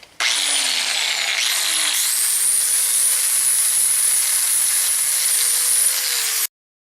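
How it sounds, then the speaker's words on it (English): An angle grinder with a 120 grit wheel grinding around the edge of a metal side cover for a torque converter: a loud, steady high whine runs continuously for about six seconds, close and alone, then cuts off abruptly. "I went ahead and used the angle grinder with a 120 grit wheel and just went around the edge."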